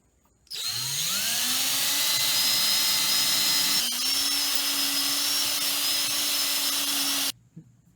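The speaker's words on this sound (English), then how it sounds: "Next, we're going to drill a hole right here." A power drill bores a hole into a wooden WWI-style trench club, a loud continuous whine spinning up sharply, dipping briefly midway, then cutting off abruptly after about seven seconds.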